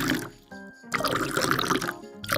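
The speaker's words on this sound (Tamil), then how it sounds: "கை கழுவு." Water runs and splashes as hands are washed after a meal, a steady close pouring and sloshing, with a brief tonal hum near the start.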